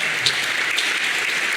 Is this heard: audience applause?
yes